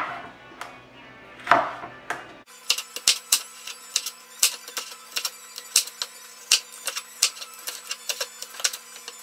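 A knife slicing ingredients on a cutting board for pineapple chicken with peppers and onions, sharp regular chops in a steady rhythm close up, a few slower cuts at first and then a quick run of evenly spaced strokes.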